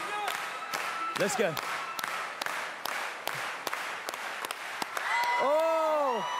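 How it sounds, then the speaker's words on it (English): A crowd at a 2012 telethon claps along in a steady beat of separate, sharp claps, with a voice calling out and other sounds in between. "Let's go, everyone clap."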